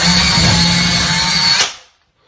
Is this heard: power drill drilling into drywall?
yes